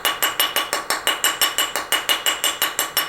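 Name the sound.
hammering a metal stamped ring to harden it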